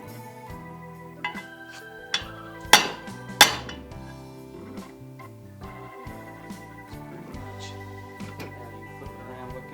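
A bearing is hammered into its housing on a motorcycle main or countershaft, with a few sharp metallic strikes, two especially loud ringing blows in quick succession, then lighter clinks and taps against a quiet workshop background.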